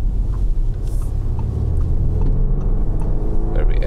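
A 2017 Audi A5 Sportback S-line under throttle gives a steady, loud low engine and road rumble, heard from inside the car with a person talking over it.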